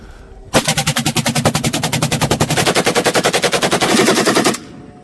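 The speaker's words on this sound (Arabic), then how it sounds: "أطلق هذا الرصاص على العدو" A machine gun fires one long, loud, sustained burst of about four seconds, evenly spaced rapid shots, then stops.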